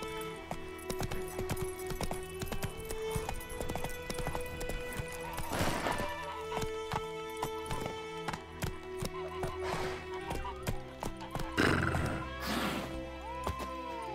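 Geralt's horse Roach clip-clops at a gallop through The Witcher 3, hoofbeats steady and close, with a couple of neighs breaking out over the game's music and ambience.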